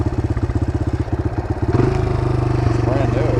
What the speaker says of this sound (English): Why does my bike just randomly start revving up?